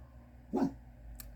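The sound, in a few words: dog barking indoors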